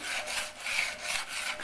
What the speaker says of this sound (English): So now he's going to sand it